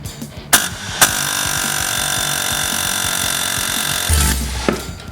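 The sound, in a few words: air hammer working on Kawasaki FD590V engine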